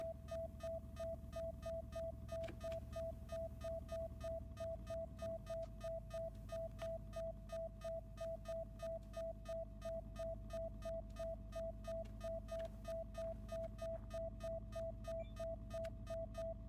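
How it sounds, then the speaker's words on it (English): Steady electronic beeping alert in the game Occupy Mars, a rapid regular pulse repeating at an even pace throughout, loud and continuous over a low background hum with no talking. "Stop with the beeping, will you?"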